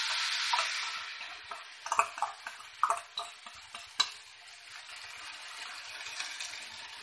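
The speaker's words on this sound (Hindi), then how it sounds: "अब मैं इस मिक्सचर को पैन में डाल दूंगी" Semolina batter goes into a hot pan with a bright hiss, a few wet clicks and scrapes, and a soft sizzle that settles as it spreads.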